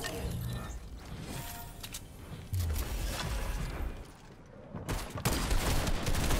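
Repeated shotgun blasts and gunfire in a shooting video game, coming in loud bursts with short gaps between volleys, backed by mechanical clatter and no talk.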